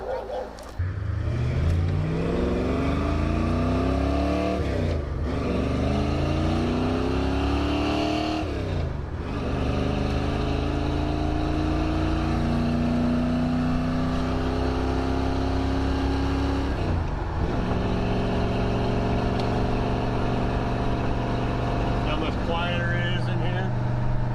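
A Ford Mustang GT350 20th Anniversary engine idles and revs repeatedly, rising and falling in pitch with deep exhaust rumble, close and loud, while people talk over it.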